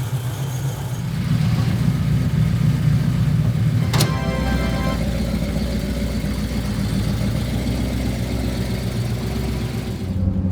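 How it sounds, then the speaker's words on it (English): A classic car's engine runs steadily with a deep, throaty low rumble, loud and close, with one sharp click partway through and no talking. "This car sounds really good, but I'm sorry, Tom, it is slow"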